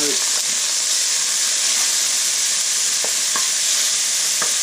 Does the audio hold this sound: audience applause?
no